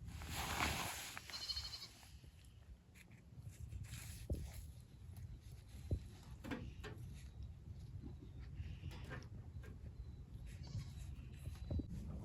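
Goats on a small family farm raising kids bleat faintly amid a busy outdoor background of rustling, shuffling and scattered knocks, with short calls rising now and then above the steady ambient noise.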